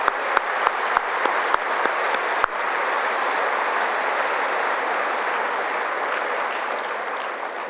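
A large banquet-hall audience at a political party's annual leader's dinner breaks into a sustained round of applause, dense and steady throughout, with a few sharp claps standing out at the start.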